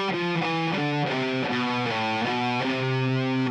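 A distorted electric guitar plays a quick descending lick on its own, the notes joined by legato hammer-ons, pull-offs and a slide in a steady, even run.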